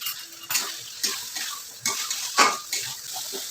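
Onion, tomato and spice masala fried and stirred in a pan, a faint sizzle under a series of sharp metallic spoon scrapes and knocks against the pan, irregular and close.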